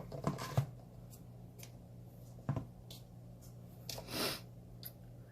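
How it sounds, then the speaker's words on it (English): A few quick scissor snips cut through yarn while making a bookworm and apple bookmark, crisp close clicks spaced apart with a soft rustle near the end, quiet and alone with no talking. "And then I'm going to just cut my yarn"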